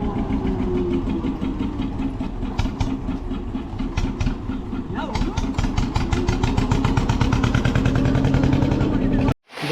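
A motorcycle engine by a boat landing on a Sundarbans island in the rain, a close, rhythmic throbbing that rises slightly, then cuts out abruptly just before the end.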